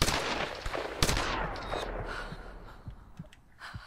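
A gunshot rings out in the Tomb Raider video game, a sharp crack at the start and another near one second, then a fading tail with faint thumps.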